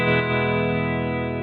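Electric guitar played through a NUX Cerberus pedal with big spring reverb and tremolo on, a sustained chord ringing out with a shimmering, pulsing wash.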